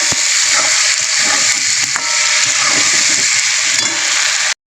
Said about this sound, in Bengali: আদা রসুন পেস্ট একটু তেলে নাড়িয়ে নেব।